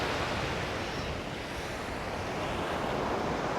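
Steady surf washing ashore at a beach in Barangay Bongbong, Pantukan, Davao de Oro, a constant broadband wash with some wind buffeting the microphone, moderately loud and unbroken, with no voices.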